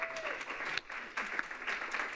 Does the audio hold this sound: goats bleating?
no